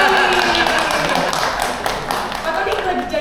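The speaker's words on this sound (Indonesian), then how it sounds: "Sebelumnya tepuk tangan buat Pak Tony dong." Applause from an indoor gathering honouring a man, dense clapping spread across the moment, with people talking over it.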